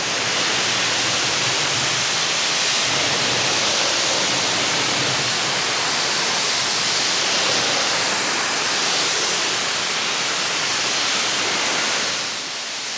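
A pressure washer sprays a Porsche 997 GT3 RS during the pre-wash, working from the bottom up, making a steady loud broadband hiss that runs almost unbroken and eases off just at the end.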